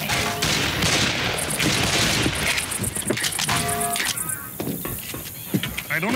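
Gunfire in the zombie shooter Left 4 Dead, a dense continuous barrage of rapid shots and booms running throughout, loud and close, with voices talking over the shooting.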